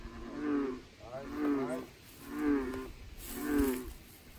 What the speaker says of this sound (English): Frogs are talking, aren't they, Clara?